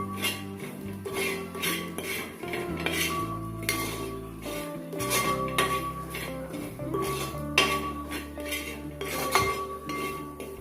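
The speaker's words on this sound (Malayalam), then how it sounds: "ഇനി നമുക്ക് നാളികേരമാണ് വറുത്തെടുക്കേണ്ടത്." Coconut roasts in an uruli while a metal utensil scrapes and clinks against the pot in a busy, irregular rhythm, close and fairly loud, with no talking.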